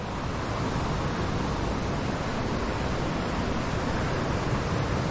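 Steady broadband rush of water at an Upper Michigan waterfall, a dense continuous roar heard close and loud throughout with no pauses.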